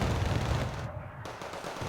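A T-72 BU tank fires its cannon in the real-time strategy game Wargame: Red Dragon, a deep booming report amid rumbling battle noise, heavy and continuous with a brief dip partway through.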